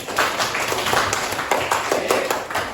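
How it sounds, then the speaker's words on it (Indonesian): Students in a seventh-grade classroom clap together in a brisk, fairly loud patter, with quick uneven bursts of hand claps repeating over a few seconds. "Iya, tepuk tangan dulu."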